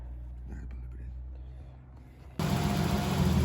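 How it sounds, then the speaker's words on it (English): A 1985 Nissan 300ZX engine catches: low, quiet rumbling gives way to a sudden loud, steady roar that keeps running at close range. "Alright, so we turned on the car"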